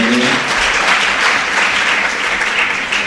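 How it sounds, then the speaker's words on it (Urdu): Applause for the sponsor at a naat recitation competition: loud, dense, continuous clapping from a large audience lasting the whole stretch, with no talking over it. "تو سید ذاکر صاحب کے لیے زوردار تالیاں بجائیے"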